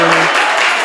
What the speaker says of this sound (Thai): ต้องขอเสียงปรบมือ